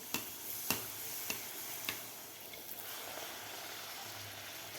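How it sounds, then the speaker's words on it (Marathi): Puri deep-frying in hot oil, with a soft continuous bubbling sizzle and a few sharp taps of a utensil early on, close but fairly quiet. "लगेच आपण पुऱ्या तळायला घेऊया व्यवस्थित आपल्याला गोल्डन कलर होईपर्यंत आपल्याला ही पुरी तळून घ्यायची आहे"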